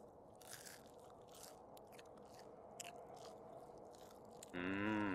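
Faint crunchy bites and chewing in the horror game The Inpatient, a series of brittle crackles spread over a few seconds, cut off by a sudden loud, droning tonal sound at the end.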